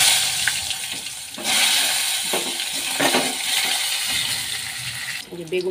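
Eggplant slices frying in hot oil, a loud, close, steady sizzle with a few spatula clacks, easing off into quieter knocks near the end, with no talking.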